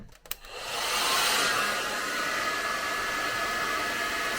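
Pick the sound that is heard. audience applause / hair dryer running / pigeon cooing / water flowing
hair dryer running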